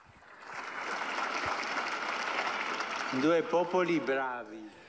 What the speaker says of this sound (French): Applaudissons le Chili et le Pérou.